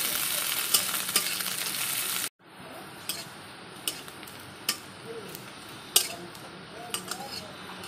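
Onion tempering sizzles loudly in hot oil for dal, a bright steady hiss that drops off abruptly partway through, then quieter sizzling with occasional sharp clinks of a utensil and some faint voices in the background.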